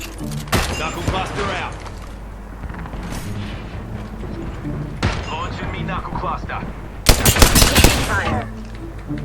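Gunfire in the video game Apex Legends: rapid bursts of automatic weapon shots, with a loud fast volley near the end, as players talk excitedly over the fight.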